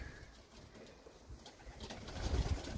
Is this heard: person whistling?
no